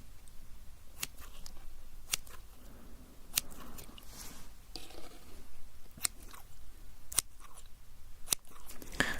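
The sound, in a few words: scissors cutting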